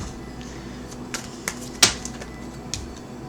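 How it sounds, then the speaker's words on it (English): Tarot cards are shuffled by hand at close range, giving a few sharp, irregular flicks and snaps over a quiet background, with one louder slap in the middle. "I'm going to keep shuffling, but a card just fell out"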